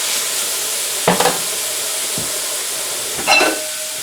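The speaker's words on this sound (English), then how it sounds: "we're going to slow fry this" A sausage slow frying in a pan over medium-low heat, a steady close sizzle with a few sharper crackles and pops.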